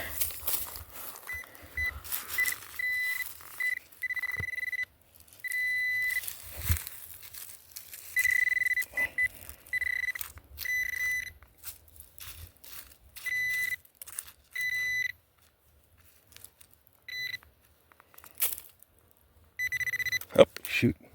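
Metal detector pinpointer probing for a buried .22 caliber bullet in the Sierra Foothills of California gives repeated electronic beeps in short bursts, some sustained, between quiet gaps and faint rustling.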